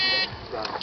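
A shot timer at a shooting range gives one loud, sustained electronic beep that cuts off sharply, followed by a voice speaking nearby.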